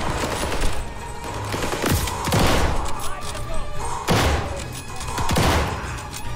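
Gunfire in Call of Duty Vanguard's campaign: rapid bursts of automatic fire and sharp shots with thuds and impacts, loud and close, repeating in waves under an ongoing battle din with voices mixed in.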